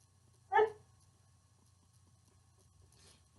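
A hyper puppy gives one short, sharp bark, then after a quiet pause starts another, both fairly close against a low background hum.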